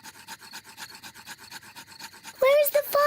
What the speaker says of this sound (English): Daddy Pig is rubbing the two sticks together to light the campfire.